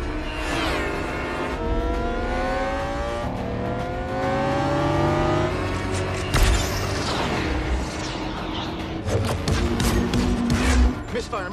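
Film car chase from Transformers: Age of Extinction, with loud roaring engines revving and accelerating, rising whines, and sharp impact bursts and crashes near the end, mixed with a dense cinematic score.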